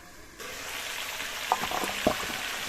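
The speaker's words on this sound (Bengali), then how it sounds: "উনুনের জালটা মিডিয়াম টু লোতে রেখেই মাংসটা কষাবো" Mutton sizzles and braises for kosha over medium-low heat, a soft steady frying hiss that starts abruptly and carries a couple of faint pops and bubbling clicks, with no voices.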